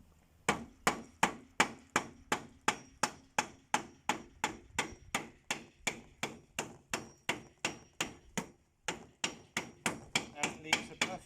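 Steady, evenly paced hammer blows, about thirty close sharp strikes, tapping through a gasket card laid over a crankcase or water pump to imprint its outline; no talking.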